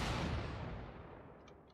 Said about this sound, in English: So you can see that there's a different sound every time we are using this weapon.